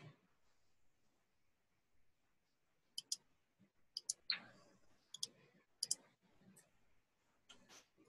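A computer mouse gives sharp, sparse clicks, some in quick double pairs, quiet and close, with low murmuring in between.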